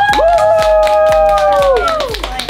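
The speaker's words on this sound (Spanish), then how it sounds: "¡Aplauso!" Rhythmic clapping at a lively family reunion, sharp claps at a steady beat, close and loud, while a drawn-out voice sounds over them.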